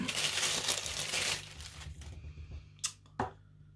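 Small plastic gift bag crinkled open, a dense rustling burst at first that fades into a few lighter crackles and two sharp crinkles near the end.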